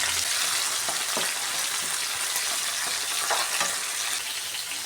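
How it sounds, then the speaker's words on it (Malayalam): Onion, broad beans, green chili and curry leaves frying together in a pan: a continuous close sizzle with occasional stirring clatter, no voices. "സവാള, അമരയ്ക്ക, പച്ചമുളക്, കറിവേപ്പില, ഇത്രയും സാധനങ്ങൾ ഒരുമിച്ചിട്ട് നമ്മൾ ഫ്രൈ ചെയ്യുകയാണ്."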